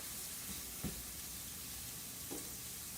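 Shrimp and scallion whites cooking in a pan give a quiet, steady sizzle and fry, with a couple of soft stirring or shifting sounds and no talk.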